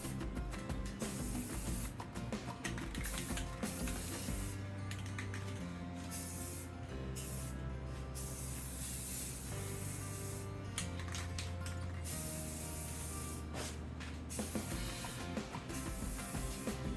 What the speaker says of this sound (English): experiment with the Rustoleum metallic gold spray paint